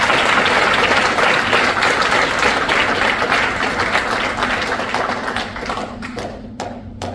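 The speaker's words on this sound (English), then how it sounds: "Please give the graduates a final round of applause." Audience applause for graduates at a military class graduation ceremony, a dense sustained wash of clapping that carries steadily before gradually thinning out toward the end, with a few final scattered claps.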